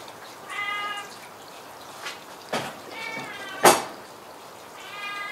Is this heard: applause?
no